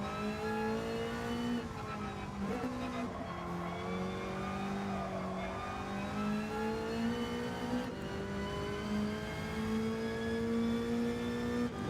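Race car engines in Gran Turismo 7, with a Honda NSX in the field, whine steadily at high revs. Pitch shifts arrive with gear changes, and the sound stays loud and continuous with no voices.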